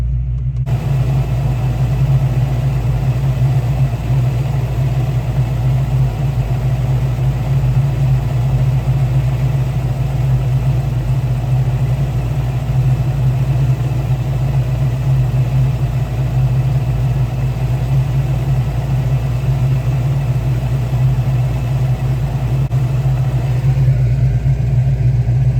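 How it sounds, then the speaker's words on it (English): A car engine idles with an exhaust leak, a loud, steady low drone with a constant puttering hum that holds unchanged throughout, close by and alone. "I definitely need to address the exhaust leak still"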